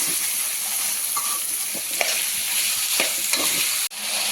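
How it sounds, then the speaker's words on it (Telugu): Ivy gourd (dondakaya) fries with salt in a pan on a medium flame, giving a steady, close sizzle throughout with occasional scraping stirs and light clinks. "ఇలా ఫ్రై చేసుకొని మీడియం ఫ్లేమ్ మీద మూత పెట్టుకొని ఫ్రై చేసుకున్నామండి."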